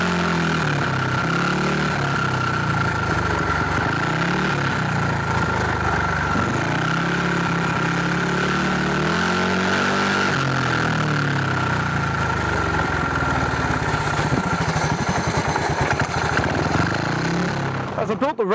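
A dirt bike engine runs loud and steady for the whole stretch, its pitch rising and falling slightly as the throttle is worked, with no talking.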